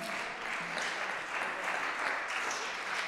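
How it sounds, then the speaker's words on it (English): Students at a school fall band concert applaud for about three seconds, a dense, steady clatter of many hands that stays even and fairly loud throughout, with no voices rising above it. "So students, give yourselves a round of applause for being great."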